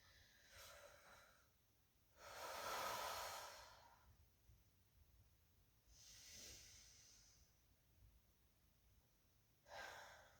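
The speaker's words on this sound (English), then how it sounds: "We'll do a couple breathing." Slow, deep breaths during a yoga cool-down, with about three long inhale-exhale swells spaced a few seconds apart, close but soft, with no talking.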